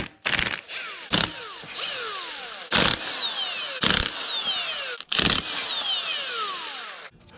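A power tool removes the oil pan bolts from a 5.7 Hemi engine pulled from a Dodge Charger R/T, firing loud short bursts of buzzing hammering about five times with a steady whine between them, close by.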